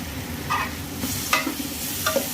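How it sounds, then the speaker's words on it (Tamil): Masala and tomato sautéing in a pan for chicken semiya biryani, a soft steady sizzle with several sharp scraping stirs of a spoon, close and alone without talk. "தக்காளியோடு சேர்ந்து இதுவும் வதங்கட்டும்"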